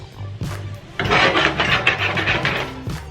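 Chicken fajita meat dumped into a hot pan, a sudden burst of crackling sizzle that flares up and keeps hissing steadily at close range after a few soft knocks.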